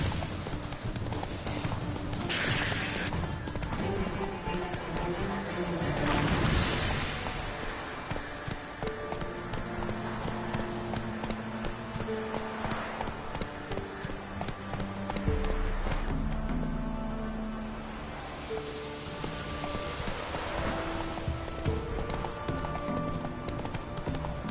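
Hooves of the horse Roach galloping in The Witcher 3, a fast steady clip-clop rhythm close up that runs throughout, with game sounds layered around it.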